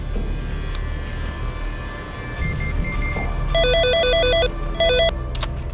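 A telephone rings in an office scene from a Hindi-dubbed horror film, its electronic bell trilling in bursts that grow louder and more insistent, repeating in quick pulses over a faint background hum.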